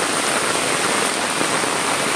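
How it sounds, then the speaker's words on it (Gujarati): Dense, steady downpour in Junagadh hisses loudly and evenly throughout the brief stretch, close and unbroken, with no one speaking. "ક્યાં જૂનાગઢ માં વરસાદ પડે અત્યારે?"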